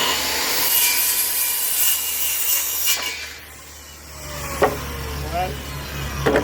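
A handsaw rasps through straight lumber wall studs in a steady back-and-forth rhythm, close and loud. The strokes break off partway through, and some scraping and knocking follow.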